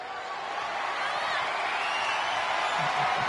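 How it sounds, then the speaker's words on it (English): Virtual arena crowd in a WWE SmackDown wrestling video game roars steadily throughout a match, a dense continuous cheer with a few louder whoops near the end. "Crowd absolutely loving it."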